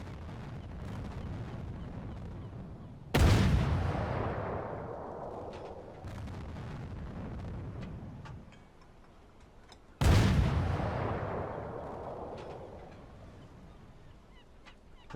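A U-boat deck gun in the submarine game Uboat fires twice at oil storage on Aruba, each shot a sharp loud blast with a long rumbling decay, spaced about seven seconds apart over a steady low background.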